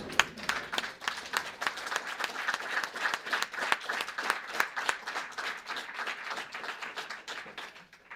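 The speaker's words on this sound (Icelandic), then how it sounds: "ég ætla að biðja ykkur að endurtaka klappið standandi." A standing audience at an Icelandic physical activity launch event applauds steadily, many hands clapping in a dense, even roar that carries on for several seconds and fades near the end.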